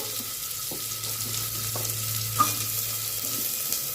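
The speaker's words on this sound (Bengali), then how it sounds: "এখন এক এক সবজিগুলো দিচ্ছি এক এক করে। গাজর, মূলো," Carrot and radish pieces added to a hot pan with cumin for foxtail millet khichdi, producing a continuous close, crackling sizzle with a few soft clinks and stirring scrapes, no voices.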